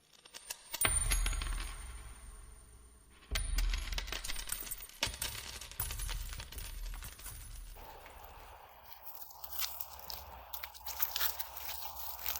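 Old coins found with a metal detector in a forest dig clink and scrape in handling, with sharp metallic clicks and rustling bursts spread through the stretch, fairly close.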